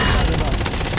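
Rapid automatic gunfire in a battle-royale video game, a dense one-second burst of shots mixed with a player's voice talking over it.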